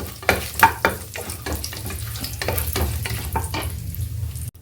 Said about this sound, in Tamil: இது எல்லாத்தையும் போட்டு நம்ம ஃப்ரை பண்ணிக்கிறோம்.